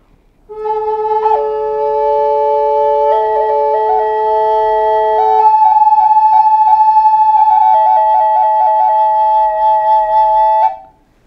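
A clear, sustained wooden Irish flute melody plays alone, smooth and steady with sliding ornamented notes, close and fairly loud.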